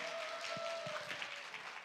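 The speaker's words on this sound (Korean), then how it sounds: "박수로 환영해 주시기 바랍니다." A small group of parents at a fifth-grade parents' meeting claps to welcome a presenter, fairly soft and brief, with a few heavier individual claps standing out near the start.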